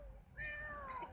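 A young kitten gives a single close, clear meow that rises and then slides down in pitch, heard alone against a quiet room.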